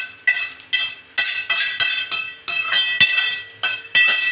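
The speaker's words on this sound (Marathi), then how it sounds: "शेंगदाणे पण असे लालसर भाजून घ्यायचे" Peanuts being dry-roasted in a pan and stirred until reddish, a rhythmic series of loud scraping, rattling strokes of a spatula against metal, close up, without speech.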